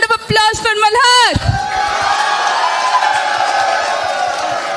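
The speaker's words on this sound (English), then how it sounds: "A big round of applause for Malhar!" A college festival crowd cheering and applauding for a music club after loud whoops and shouts open the moment, settling into a steady roar of clapping and crowd noise.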